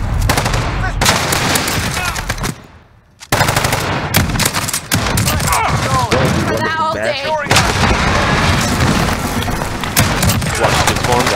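Dense, sustained gunfire from Call of Duty: Modern Warfare, with rapid machine-gun bursts and heavy booms filling nearly the whole stretch, broken by a brief lull, and a player's voice talking over parts of it.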